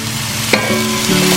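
Mushrooms frying in oil in a pan for a vegetarian cutlet, a loud continuous sizzle with a sharp clatter of stirring partway through.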